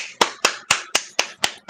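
Sharp hand claps in a steady rhythm, about four per second, close and crisp with quick decays and silence between them.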